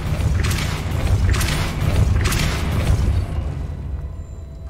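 Depulso spell bursts from Hogwarts Legacy, three heavy booming whooshes in quick succession, loud and close, fading into quiet at the end.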